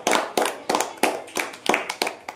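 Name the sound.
children clapping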